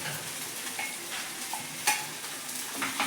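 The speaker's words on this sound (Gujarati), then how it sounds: "હવે આપણે આને મિક્સ કરી અને સાબુદાણા જે છે એને આપણે અંદર એડ કરી લઈએ." A spoon stirs sabudana khichdi in a frying pan, making soft scraping and light sizzling, with one sharper clink of utensil against metal, fairly quiet and with no speech.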